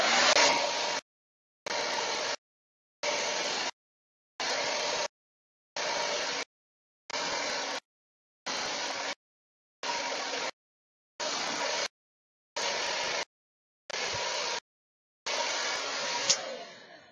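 Hair dryer blowing while styling bangs, switched on and off in a regular rhythm of about eleven roughly one-second bursts of steady airy whoosh separated by silence, close and moderately loud.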